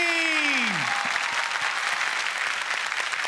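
Loud, sustained studio-audience applause welcoming veteran actor Mohan Joshi on a Marathi comedy show, steady dense clapping throughout, with a short falling musical tone at the start.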